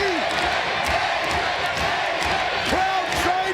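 Wrestling crowd cheering and chanting in an arena during an X Division match, a dense, loud roar that fills the entire stretch with rising shouts.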